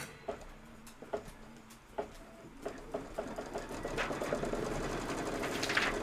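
A sewing machine runs during a Kimberbell Cup of Cheer sew-along project, starting with a few slow, separate stitch taps about once a second, then speeding into a steady, faster rattling run that builds in loudness.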